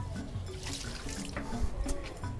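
Water is poured over a pet iguana, a close splashing trickle with small drips and a couple of heavier splashes near the end, no talking.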